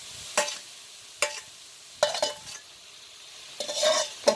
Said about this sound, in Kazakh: Енді тәтті бұрыш салып жатырмыз